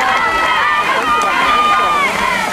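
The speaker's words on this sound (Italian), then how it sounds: "sentite il tifo che fa i suoi concorrenti, i suoi compagni" Spectators at a race during the agricultural festival in Cogolo, Peio, cheer on a competitor with loud, continuous shouting and rising whoops from a close crowd.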